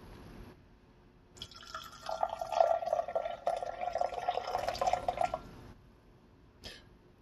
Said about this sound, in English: gonna pour our coffee in